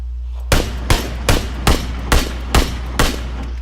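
Seven sharp gunshots ring out in PUBG at an even, steady pace, each loud and close with a short echoing tail, over a low background hum and no talking.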